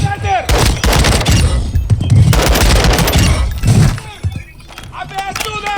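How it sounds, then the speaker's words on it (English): Rapid bursts of gunfire ring out in a shooter video game, with enemies firing through walls; loud, dense volleys come in waves with short gaps between them, and voices can be heard in the mix. "They're shooting through walls."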